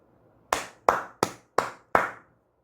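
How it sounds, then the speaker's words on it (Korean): A single presenter gives five sharp, close hand claps in a steady rhythm, each crisp and distinct with brief silence between, alone in a quiet room. "매우 좋은 소식이기 때문에 박수 한번 치고 가도록 하겠습니다"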